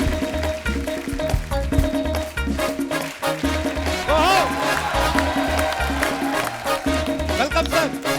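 A studio audience on The Kapil Sharma Show claps and cheers to welcome guests, sustained applause blended with loud band music throughout.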